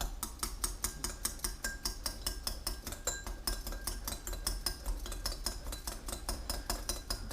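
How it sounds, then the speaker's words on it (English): Utensils scraping and clinking steadily against a bowl as lo mein ingredients are stirred together, a dense, continuous rhythm of close metallic and glassy taps with no talking. "Now I'm just going to mix all this together."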